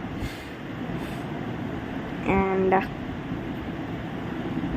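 A steady low rumble of a train rolls past, with a brief louder horn-like tone partway through, heard from a moderate distance.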